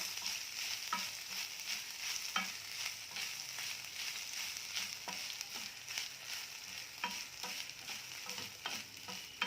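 Sambar ingredients sizzling as they roast in a pan, with repeated stirring scrapes and occasional metallic taps, a steady frying hiss throughout.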